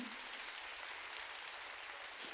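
Congregation clapping during a Korean church sermon, a steady dense wash of applause filling the whole stretch at moderate level with no talk.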